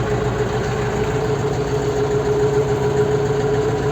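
Scout 404C tractor with a Bomet two-furrow plough, engine running steadily: a constant low droning hum, fairly loud and close, with no talking.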